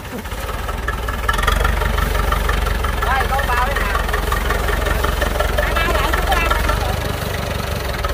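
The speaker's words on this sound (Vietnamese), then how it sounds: "Bạn nghe tiếng bô đã không?" An International 444 tractor engine runs with a steady, close, low exhaust rumble throughout, while people talk over it.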